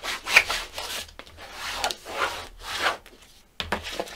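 Cardstock paper on a shabby chic mini album is burnished by hand in several firm rubbing strokes, close and soft, with short pauses between passes and no talk.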